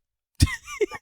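A single sharp, close cough from a podcast host, followed by a couple of rough throaty bursts, after a moment of silence.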